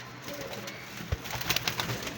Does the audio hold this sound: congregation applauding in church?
no